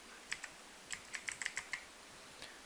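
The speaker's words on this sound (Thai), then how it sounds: "ให้พิมพ์ที่เสิร์ชบาร์ตรงนี้นะครับว่า Android Studio นะครับ" Keystrokes on a computer keyboard as a search term is typed, about a dozen light, quiet clicks in short irregular bursts with pauses, no talking.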